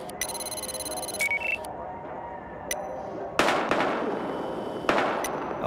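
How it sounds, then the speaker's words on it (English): Gunshots in the video game Battlefield Hardline, a few sharp isolated cracks spaced seconds apart over a background of electronic tones and ambience. "We've got gunshots, we're engaging."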